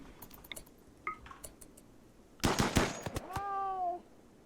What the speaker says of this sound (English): One more round of fire and then we'll leave it to Leth